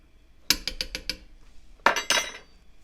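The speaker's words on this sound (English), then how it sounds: "And I'll keep scraping the bottom." Metal spoon scraping and knocking against the bottom of a cooking pot of New Orleans beef stew base, a quick run of five sharp clinks followed by a second louder burst of scraping strokes, close and alone.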